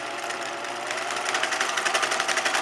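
A sewing machine stitches stretchy knit fabric for a shirt made from a bedsheet, its needle chattering in a fast, even mechanical pulse that speeds up slightly, close and alone.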